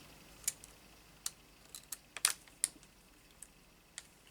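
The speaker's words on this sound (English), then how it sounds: "just going around patiently, carefully, just making sure that all of our lines are cut nicely." Scissors cutting along printed lines on paper for specimen card sliders: a quiet, irregular series of small snips and clicks in a calm room, with no voices.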